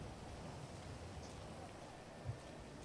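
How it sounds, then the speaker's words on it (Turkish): Steady, soft patter of video game rain in Grand Theft Auto Online with a faint hiss, continuous and even, distant and quiet throughout. "Evet yağmur yağıyor dediğin doğru."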